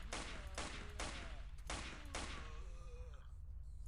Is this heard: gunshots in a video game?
yes